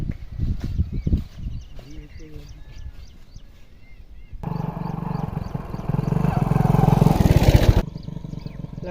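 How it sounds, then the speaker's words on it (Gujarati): A motorcycle engine revs loud and close for a few seconds midway, with a rough, broad rumble, after stretches of people talking in a rural village setting. "બાઈક નો અવાજ આવે"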